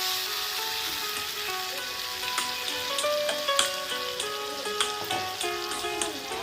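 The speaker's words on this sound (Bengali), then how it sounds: "তার জন্য তেল গরম হতে দিয়েছিলাম। এরপর মাংসটা দিয়ে দিলাম এর মধ্যে।" Marinated chicken pieces fry in hot oil for biryani, giving a steady close crackling sizzle with scattered pops and a few faint clinks of stirring, no one speaking.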